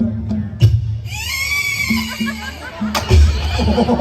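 A person imitates a horse's whinny with a loud, wavering neigh-like call lasting a couple of seconds, surrounded by chatter and laughter from a small group nearby.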